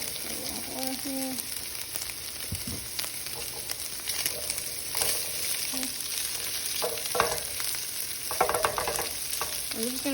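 Ground meat sizzles steadily in an oiled pan while being stirred and scraped, a continuous close hiss with intermittent utensil scrapes and clatters over it, fairly quiet overall.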